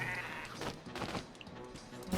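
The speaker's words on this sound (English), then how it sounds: "Unhappy sheep." Sheep bleating in the video game Sheep for the Stars, a few short bleats mixed with game sounds and background noise, fairly faint.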